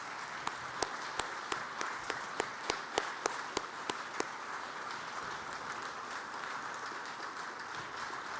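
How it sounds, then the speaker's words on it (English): An audience applauds at a Hall of Fame press conference, a steady patter of clapping from a modest crowd, moderately distant, with a few louder individual claps standing out early on. "Let's give them all a round of applause."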